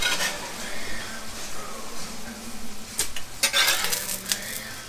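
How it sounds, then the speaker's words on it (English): A cast iron pan is picked up and handled on a stovetop while chili cooks, giving a low sizzle and scraping metallic clanks and knocks that grow louder near the end, with no talk. "Pick up a cast iron pan."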